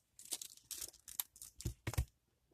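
Material for a handmade fawn reborn doll being cut up close, a run of crisp, separate snipping and tearing rustles that come in short irregular bursts, with no talking.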